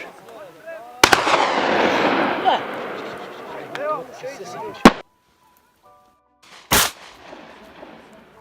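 Several sharp loud gunshots from many guns firing together at wild boar in Texas crack in quick succession amid a dense burst of fire, followed by sparse bangs and a brief pause between shots.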